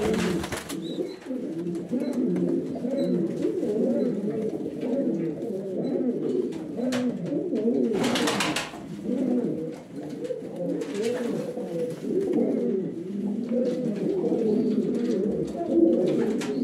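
Buchón pouter pigeons coo steadily in a pigeon loft, a dense, continuous chorus of low rolling coos from several birds close by, with no talk.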